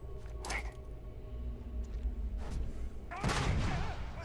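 A grenade detonates in the Starfield video game, heard as a few thumping blasts among scattered gunfire, with the heaviest burst near the end, fairly close over a low background rumble.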